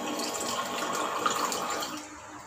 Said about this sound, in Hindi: तो इतना पानी डालूंगी